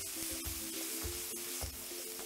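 Crispy corn frying with ketchup and chili sauce in a pan, a continuous hissing sizzle with faint periodic stirring thumps, close and steady.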